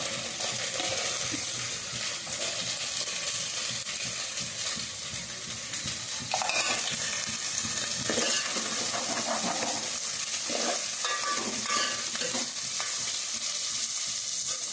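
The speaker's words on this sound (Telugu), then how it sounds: "ఇప్పుడు ఇందులో అయితే ఉల్లిపాయ ముక్కలు వేస్తున్నానండి ఉల్లిపాయలు పచ్చిమిరపకాయ వేయించి ఉంచుకుందాం" Steady loud sizzling of onion pieces and green chillies frying in a pan for mango chicken curry, with scraping stirs of a spoon breaking through midway, continuous and close with no speech.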